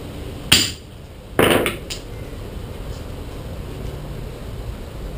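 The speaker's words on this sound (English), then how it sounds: "I'm using a hammer with this punch because it doesn't work anymore" Two sharp metallic hammer blows strike a punch to mark holes during knife making, a single crack followed a second later by a louder ringing hit, then quiet.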